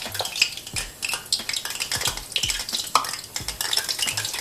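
Pasta is stirred around in a pan as it cooks, with repeated scraping, clinking spoon-on-pan strokes and a light background sizzle, close and fairly busy throughout, no voices.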